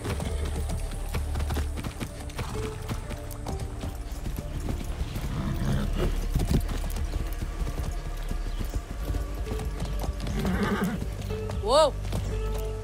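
A horse in Far Cry 6 gallops with steady clip-clop hoofbeats under ongoing game sound, then lets out a clear neigh near the end.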